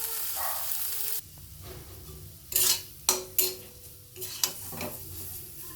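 Cooked potol (pointed gourd) peel paste scraped from a pan into a bowl with a utensil, several sharp scrapes and clinks after a steady sizzling stretch, close and fairly quiet.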